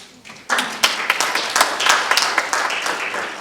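A small crowd at a tech and governance summit in Kenya claps and applauds steadily for a few seconds, with individual claps standing out, loud and nearby.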